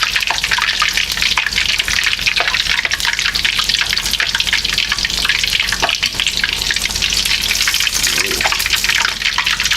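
Chili cheese hot dog deep frying in hot oil, a steady loud sizzle and crackle with bubbling pops running throughout, close up.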